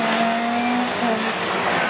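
Orange Honda rallycross car in a Division 4 race at Châteauroux, a loud close engine roar at high revs with a tonal whine, steady and continuous through the short burst.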